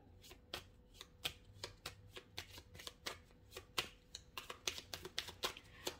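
Tarot cards are handled and shuffled up close, a quick series of crisp flicks and riffling snaps in an uneven rhythm, soft in level, with no voices.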